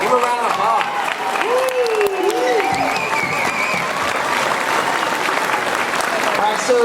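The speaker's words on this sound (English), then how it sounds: "Give a round of applause." An audience at a San Diego Comic Con panel gives the show's crew a round of applause, with loud, dense clapping and cheering filling the room while voices call out over it.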